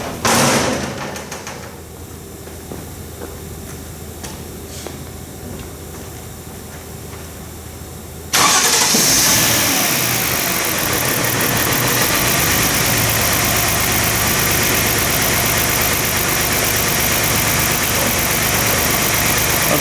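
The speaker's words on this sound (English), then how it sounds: "Now I'm going to start the engine and we'll let it idle." A Lincoln LS engine cranks and catches about eight seconds in, then settles into a steady, close idle that holds to the end, following a quiet stretch.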